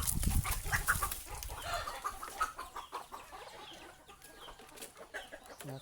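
Farm chickens cluck and squawk in a close, busy flock while being called to feed, the hen calls scattered and overlapping at a steady moderate level.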